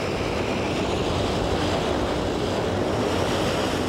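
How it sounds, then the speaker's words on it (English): A water-scooping firefighting aircraft skims the water's surface, its two hydraulic scoops filling the tanks with over 1,600 gallons. A loud, steady rushing roar of spray and engine noise runs unbroken throughout, with no voices. "In less than a minute, the aircraft skims the water's surface and fills its water tanks to capacity."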